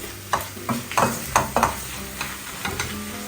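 Tinned fish and leeks sambal being stirred in a hot pan: a spatula scrapes and knocks in several uneven strokes over a constant close sizzle, with no voices.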